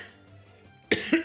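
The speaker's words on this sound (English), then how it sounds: "Really bad cough." Two quick, harsh coughs, close and fairly loud, come near the end after a quiet stretch of faint background hum.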